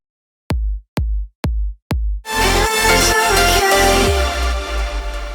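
Progressive house kick drum and bass line with effects, made in FL Studio: four isolated deep kicks, then a dense wash of bass, pads and effects takes over, loud and continuous.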